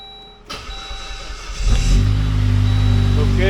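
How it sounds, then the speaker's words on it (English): A car engine cranks and catches, then settles into a loud, steady idle close by after a click and brief starter whir. "Okay, car started up."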